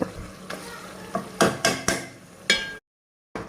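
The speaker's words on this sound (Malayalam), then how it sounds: "ഞാൻ വെളിച്ചെണ്ണയിലാണ് പൊരിച്ചെടുക്കുന്നത്" Chicken pieces frying in coconut oil, with sizzling broken by repeated stirring scrapes and clacks of a utensil against the pan, close and moderately loud, then a brief silence.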